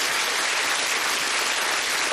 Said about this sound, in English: a little applause for Steve, certainly